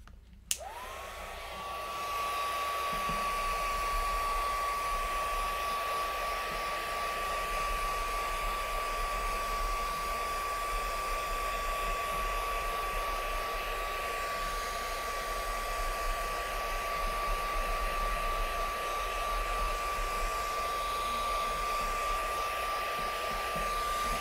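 A hair dryer blows on a freshly made mixed media home decor art piece, switching on at the start and then holding a steady, close, loud whirring roar with a constant high whine for the full stretch, with no voices.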